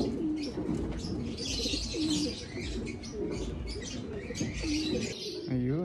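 Racing pigeons coo repeatedly at a home loft as a bird returns from a training toss from Irosin, Sorsogon. Soft chirps and faint background voices are mixed in.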